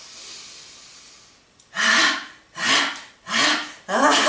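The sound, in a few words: group breathing in deeply during laughter yoga exercise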